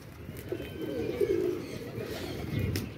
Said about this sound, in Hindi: ये देखें, ये आ गया बच्चा दुमपे रंग वाला अपना कबूतर।